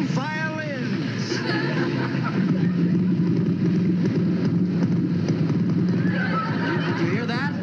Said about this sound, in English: Listen to those horses in perfect harmony.